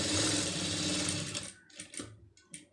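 A sewing machine stitches a lining piece for a pom pom design, giving a steady, close whir for about a second and a half before stopping, followed by a few soft clicks and handling sounds.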